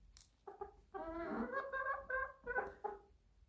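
Chickens cluck and murmur up close in several short, rising bursts with brief pauses between them.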